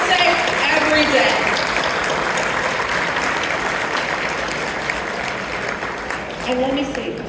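Loud, dense audience applause for police officers at a Chicago Islamic organizations' anniversary gathering, a crowd clapping continuously throughout with faint voices breaking through at the start and end.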